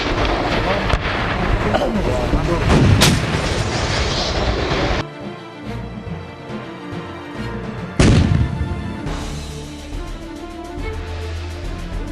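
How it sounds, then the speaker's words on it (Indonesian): Loud artillery explosions during a 2015 Indonesian Army (TNI AD) combat exercise demonstration at Baturaja, with heavy booming bursts over a sustained rumble and a sharp blast near the end. "Ledakan keras yang terdengar itu adalah ledakan pukulan"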